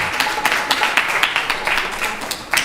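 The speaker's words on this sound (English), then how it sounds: "So please give the temple devotees a big round of applause for washing all the walls here." Temple devotees at an evening arti gathering receive a loud, sustained round of applause, many hands clapping densely and evenly close by.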